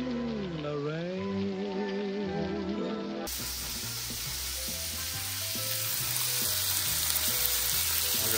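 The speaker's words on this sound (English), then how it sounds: "Either bacon's cooking or it's raining outside." Bacon frying in a non-stick pan, a dense steady sizzle and crackle like rain on a surface, close and continuous, growing brighter after a sudden change partway through.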